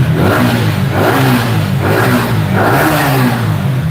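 A 2023 Indonesian-model motorbike engine revs loudly and close by in repeated rising surges, roughly every second, with no talking over it.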